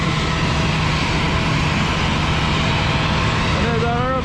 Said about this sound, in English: And there's our aeroplane.